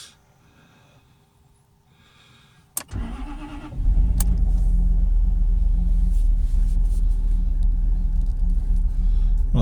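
A Jaguar XKR with an idle problem cranks once after a quiet pause, catches at once and settles into a loud, steady, close rumble that continues to the end.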